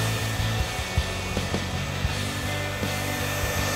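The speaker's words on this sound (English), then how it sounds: "So with my dryer, I'm just going to get this back in." A handheld hair dryer runs steadily while blow-drying already-dry hair into an old-school Hollywood glamour style, with a continuous close airflow hum and occasional brushing rubs.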